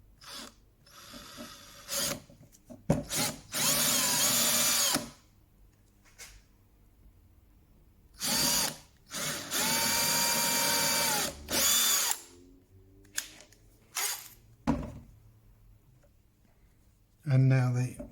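A power drill whirs in several short bursts, a few seconds each, boring screw shank holes into wood, with quiet pauses and handling noises between runs.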